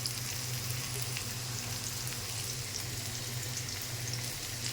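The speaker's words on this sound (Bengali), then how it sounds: "আলু দিয়ে দিয়েছি তেলে" Potatoes fry in hot oil, a steady dense crackling sizzle that stays even and close throughout, with no talking.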